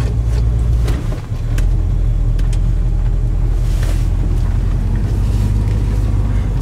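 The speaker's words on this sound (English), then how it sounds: "Older dual exhaust, but it still sounds good, so we left it alone." A 1969 Mercury Cougar convertible with an older dual exhaust idles with a steady deep, low rumble, close and continuous, with no talking over it.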